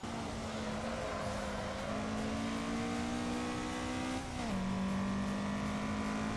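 A car in Assetto Corsa runs downhill on the Akina course, its engine humming at a steady pitch that climbs slowly, dips briefly as the throttle lifts, then settles into a new tone, with no one speaking.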